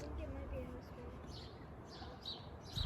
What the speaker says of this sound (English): So what kind of bird is that, guys?